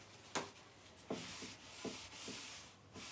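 Cloth or brush rubbing Paint Couture glaze, used as a stain, into a furniture surface, a close, soft scrubbing with several sharper strokes spaced about a second apart, no talking.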